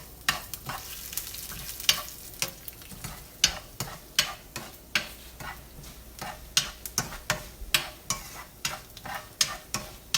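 Curry leaves stirred in a frying pan while cooking eriserri, with steady rhythmic scrapes and taps of the utensil over a continuous soft sizzle, close and moderately loud.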